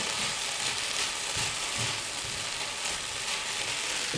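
Asian stir fry sizzles steadily in a hot pan, a constant hiss of frying with soft scraping stirs underneath.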